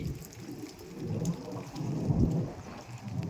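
Steady unseasonal storm rain falls over farm fields with a dense rushing patter, accompanied by a low rumble of distant thunder.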